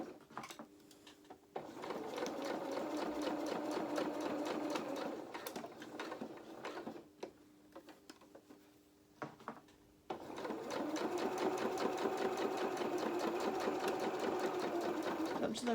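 A sewing machine stitching a doll's apron dress for a 16-inch doll, running in bursts of rapid rhythmic stitching separated by short pauses, close and clear, with a voice speaking quietly at times.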